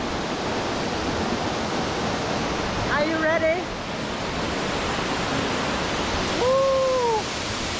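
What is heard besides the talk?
waterfall in Cambodia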